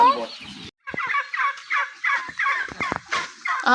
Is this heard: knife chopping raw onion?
no